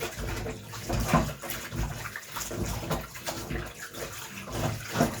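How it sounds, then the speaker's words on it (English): Running water splashes steadily as beef for Jamaican curry is washed under a tap, a close, continuous gush and patter with uneven surges. "In our position, so we'll use some running water"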